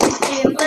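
Hand claps marking a Tepuk PPK clap chant in an Indonesian classroom lesson, three or four sharp claps spaced evenly over under a second, close and fairly loud, with no voices.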